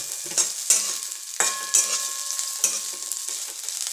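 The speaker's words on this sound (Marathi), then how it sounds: "शेंगदाणे सुद्धा अगदी छान पद्धतीने असे भाजून घ्यायचे" Raw peanuts dry-roasting in a pan while a spatula stirs them, giving repeated close scraping and rattling strokes over a light, steady sizzle, with no talking.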